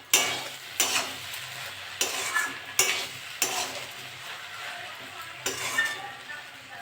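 A spatula stirs taro stolons and prawns frying in a pan, giving a series of distinct scraping strokes about every second over a steady close sizzle.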